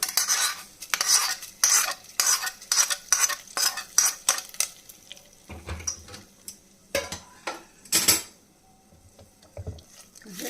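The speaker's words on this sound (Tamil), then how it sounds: "நல்லா கலக்கி விட்டுக்கலாம்." A spoon scrapes and clinks against a pot while stirring venpongal with pepper, cumin and curry leaves fried in ghee, with rapid rhythmic scraping strokes at first, then a few slower, sparser knocks.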